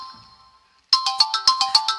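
An incoming-call telephone ringtone bursts in loudly after a faint electronic tone, repeating as a fast, bright pulsing pattern of about seven beats in under a second, with no voices over it.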